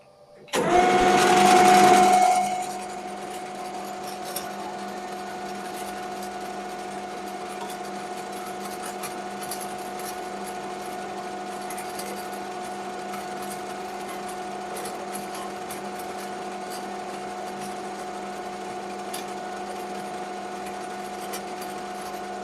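A metal lathe turns a small part for a sports car build, starting with a brief loud burst before settling into a steady, close machine hum with constant tonal whine and no talking.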